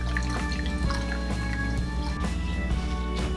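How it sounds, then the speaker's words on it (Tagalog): Juice being squeezed from blended ginger, with wet squishing and dripping as liquid falls into a container, close and steady throughout. "Ngayon po ay tatanggalin natin ang katas ng ating luya."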